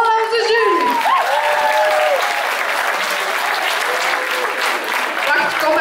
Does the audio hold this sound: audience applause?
yes